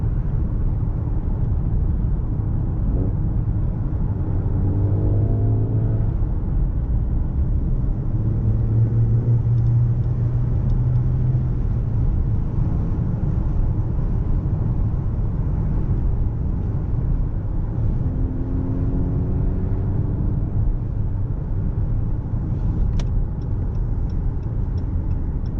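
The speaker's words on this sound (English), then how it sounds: "If y'all hear hella wind, I'm sorry about that." Steady loud wind buffeting through an open window of a Dodge Charger SXT driving a canyon road, a continuous low roar with engine rumble underneath and no talking.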